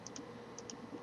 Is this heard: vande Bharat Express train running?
no